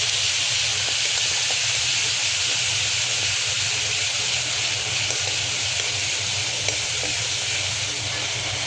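Onion paste fries in a hot pan with steady, loud sizzling and hiss, stirred throughout, a close continuous sound with faint scraping from the stirring.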